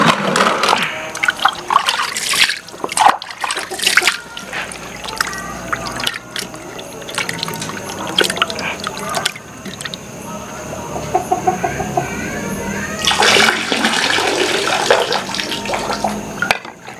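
Tilapia fish fillets being washed under running water in a kitchen, steady splashing and tap flow with a rooster clucking and crowing in the background.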